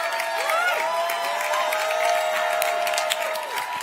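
Crowd applause at a Kamala Harris event, with sustained clapping mixed with cheers and whistles that stay loud throughout.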